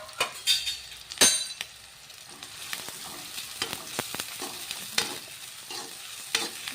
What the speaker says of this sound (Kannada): ಈಗ ನೋಡ್ರಿ ಈರುಳ್ಳಿ ಅವು ಫ್ರೈ ಆಗಿ